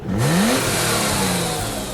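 A BMW M3 engine revs hard, climbing in pitch right at the start and then holding a loud, throaty, continuous drone, close to the car with no talking.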